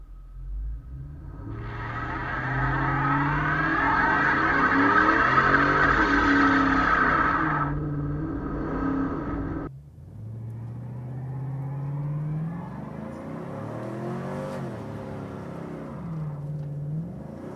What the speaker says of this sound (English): one thing I've never even attempted with this truck is a burnout.